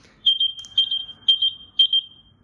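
A retro pager-style Bumpboxx Bluetooth speaker beeps close by in four short bursts, each a double chirp at one high pitch, evenly spaced with no talk over them.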